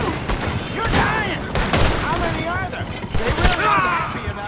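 Gunshots in Red Dead Redemption 2 crack out in a rapid, uneven volley of loud reports, mixed with shouting voices and game sounds.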